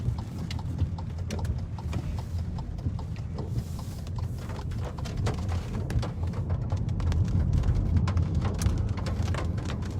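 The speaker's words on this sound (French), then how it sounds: "Alors, depuis hier, il pleut à Kourou." Steady, heavy rain falls in Kourou, French Guiana, patters densely on surfaces, a constant wash of drops with no voices.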